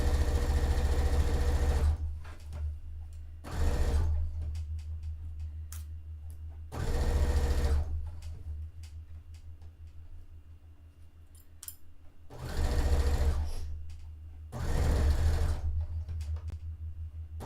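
A sewing machine stitches a dress made from bed sheets in five loud bursts of rapid whirring, separated by quieter pauses with small clicks and handling sounds.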